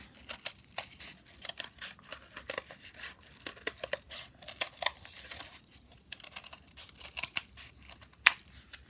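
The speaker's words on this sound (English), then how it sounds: "I'm going to cut these out one by one" Scissors snipping through cardboard to cut out circles, a close series of crisp irregular cuts and crunches with short pauses between strokes.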